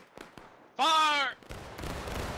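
A loud shouted command is followed by a rolling, noisy musket volley from a line of infantry in the American Civil War game War of Rights, the gunfire spread out and slightly distant.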